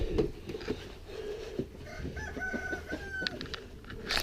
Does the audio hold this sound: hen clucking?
yes